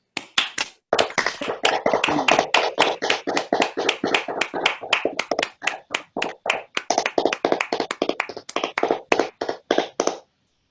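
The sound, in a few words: participants clapping at end of online conference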